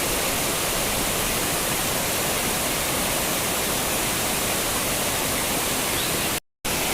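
Benki Falls in the rainy season pours with a steady, dense rushing roar that holds unchanged throughout, broken only by a brief dropout near the end.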